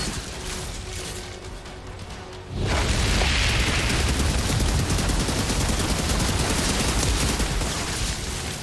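Gunfire in the shooter game Outriders: a quieter stretch of low rumble, then a sudden loud burst into dense, continuous rapid shots and booms that keep going to the end without pause.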